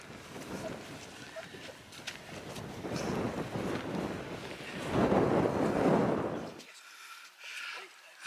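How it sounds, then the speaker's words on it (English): A gust of wind buffets the mic on the cloudy summit of Cruach Ardrain in the Scottish hills, a broad rushing roar that swells near the middle, peaks, then drops off sharply toward the end. "With that nice gust of wind"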